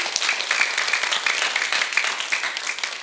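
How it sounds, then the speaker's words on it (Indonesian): An audience at a primary school event gives a burst of lively applause, with many hands clapping densely and evenly at close range for the whole few seconds, and no voices heard over it. "Berikan tepuk tangan."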